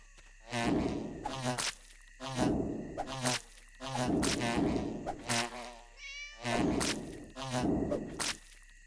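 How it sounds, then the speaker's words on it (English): Aggressive bees buzz in the video game Divine Divinity, a loud, pulsing drone that swells and fades in repeated bursts of about a second each, with no talk over it. "These are some very aggressive bees."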